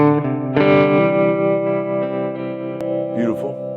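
An electric guitar on its neck PAF humbucker pickup rings out through a distorted amp, a sustained chord struck loud and let decay, with a short scratchy flourish near the end.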